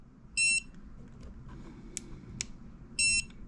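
A dog training shock collar gives two short, bright electronic beeps about two and a half seconds apart, with faint clicks and low background hum between them.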